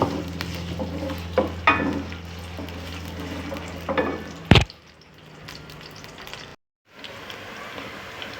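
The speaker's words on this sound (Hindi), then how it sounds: "प्याज हमने इस तरह से काट लिए, ये शामिल कर देंगे और इनको थोड़ा सा गोल्डन फ्राई करेंगे।" Chopped onions fry in cooking oil in a kadai for chicken hara masala, a steady close sizzle with stirring clatters and one sharp knock, then quieter sizzling broken by a brief cut to silence.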